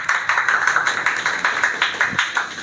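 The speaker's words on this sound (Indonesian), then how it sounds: "Tepuk tangan dulu." An audience at an evening coffee discussion gathering claps together in quick, even, rhythmic beats, loud and close, with no talking over it.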